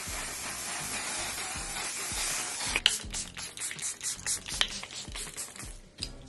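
Charlotte Tilbury setting spray mists from a pump bottle: a steady, loud hiss for about three seconds, then shorter sprays mixed with clicks of the nozzle.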